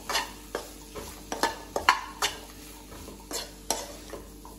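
Green chilies and boiled chickpeas being stirred in a pan for capsicum rice, a soft sizzle punctuated by about a dozen sharp spoon-on-pan scrapes and knocks in an irregular rhythm, with no voices.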